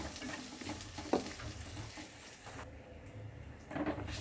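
Finely chopped small onion cooks in a pan with garlic and ginger, giving a soft, low sizzle with occasional stirring knocks and scrapes, close but quiet and without speech.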